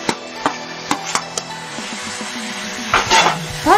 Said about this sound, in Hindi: और इसे भी अच्छे से मिक्स कर देते हैं।